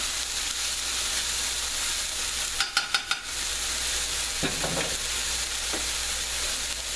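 Ingredients for a Philly cheesesteak sauté in a hot pan with a steady, loud sizzle. A few sharp clinks of a utensil against the pan come through near the middle, then softer stirring scrapes.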